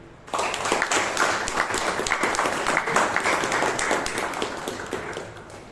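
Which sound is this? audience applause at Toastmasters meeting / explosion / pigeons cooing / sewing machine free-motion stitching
audience applause at Toastmasters meeting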